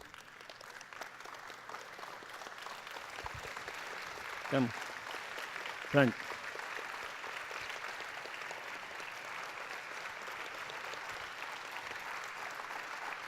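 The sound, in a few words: audience applause for the masters at a festival inauguration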